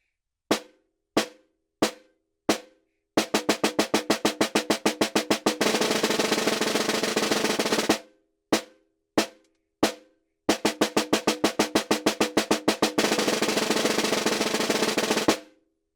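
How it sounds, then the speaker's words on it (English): A snare drum plays a few single strokes, then a measure of 16th-note multiple bounce strokes that blur into a smooth, buzzing roll, and the pattern repeats twice, close and crisp with clean gaps between phrases. "then we're going to do 1 measure of 16th note multiple bounce strokes"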